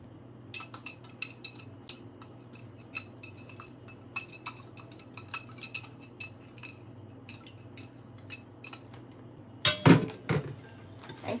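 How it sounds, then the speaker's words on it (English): A whisk beats Caesar salad dressing with homemade Dijon mustard in a bowl, making a steady run of light, rhythmic metallic clinks close by, ending in a louder clatter, with no voices. "And keep whisking."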